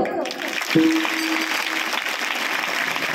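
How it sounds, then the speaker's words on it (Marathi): Audience at a kirtan breaks into a broad wash of applause that holds steady throughout, moderately loud, with a brief voice near the start. "टाळी जोरदार होऊन जाऊ दे."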